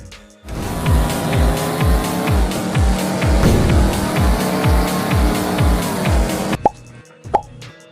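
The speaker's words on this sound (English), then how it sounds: "Off-road rally car racing 4x4 is the ultimate offline simulation for 2025" Rally car racing off-road in a 4x4 video game, with steady engine roar and a rapid, regular series of thumping hits that fade into two sharp, brief impacts as the engine cuts out.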